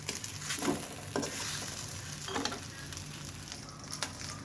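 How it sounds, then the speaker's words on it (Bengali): Egg frying in a pan with onion, garlic and chaat masala for a roll, a soft, steady sizzle with a few spaced scraping stirs. "আমি ডিমটা আগে ভেজে নিচ্ছি"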